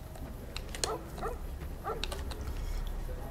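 A dog in the video game Fallout: New Vegas gives three or four short yelping barks spaced about half a second apart over a low ambient rumble, with no talk.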